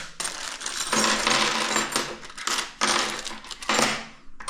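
Cheap hand tools, a crude screwdriver, a Phillips driver and wrenches, clink and rattle against each other in a series of loud metallic jangles with brief pauses between handfuls, close up and with no voices.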